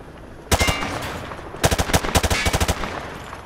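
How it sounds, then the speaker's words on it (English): Automatic weapon fire at range targets in Call of Duty Modern Warfare 2 Remastered on PS5, one short loud burst followed by a longer rapid string of shots, close and without talk. "Grab that weapon off the table and fire at the targets behind you."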